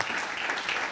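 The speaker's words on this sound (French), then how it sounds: "On peut l'applaudir, Jean-Pierre." A crowd at an autocross event in Badefols-d'Ans honours a volunteer at a prize ceremony with brief, dense clapping, steady and moderately loud throughout.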